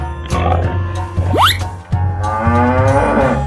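A cow moos in a cartoon animal scene, loud and close, with a couple of low drawn-out calls mixed with other bright cartoon effects and a rising whistle-like sweep.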